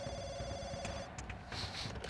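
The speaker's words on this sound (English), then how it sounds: "Oh, I have to answer the phone." A telephone in the video game Splinter Cell: Conviction rings in faint, electronic bursts over a low background hum, with no voices.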